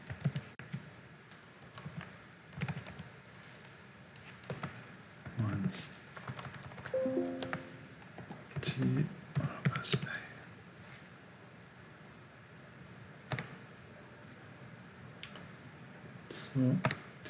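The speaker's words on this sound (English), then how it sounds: "Just type SSH" Typing an ssh-keygen command on a computer keyboard, bursts of close, crisp key clicks separated by pauses, with a few isolated clicks.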